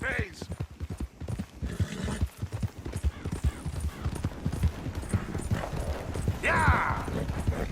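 Horse hooves clip-clopping in Red Dead Redemption 2, a close, steady trotting rhythm throughout, with a brief whinny-like sound near the end.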